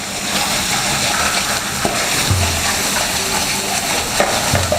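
Tempe mixture stirred in a frying pan, a steady sizzle of frying under scraping stir strokes, with occasional soft clinks of utensil against the pan throughout.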